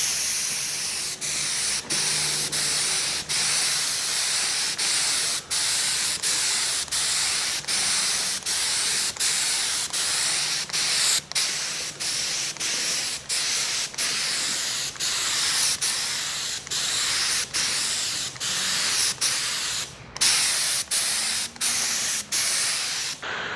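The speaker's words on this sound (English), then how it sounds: "we've got some JCB yellow in the can. Let's turn this black A-frame yellow." A metal A-frame linkage is spray painted JCB yellow with an aerosol can, a long series of steady hissing bursts broken by many short pauses, fairly close and with no talk.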